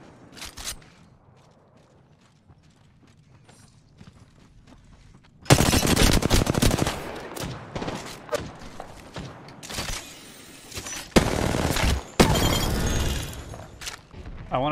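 Gunfire in the Apex Legends video game: after a quiet start, a loud burst of rapid shots and booms hits midway, followed by more bursts and mechanical clatter, all near and dense.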